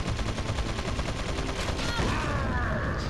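Rapid automatic gunfire in Resident Evil 4, a dense rattling stream of shots in quick succession, moderately loud and continuous throughout with some game effects trailing near the end.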